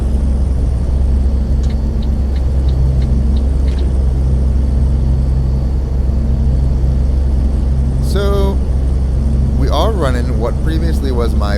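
Volvo FH16 truck engine in Euro Truck Simulator 2 with ProMods, a steady loud low drone that runs throughout while cruising, with brief clicks and a burst of higher tonal sound near the end, under someone talking.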